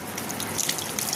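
Steady broadband rush of tap water running continuously during hand washing at a sink, close and fairly constant with slight surges, no voices.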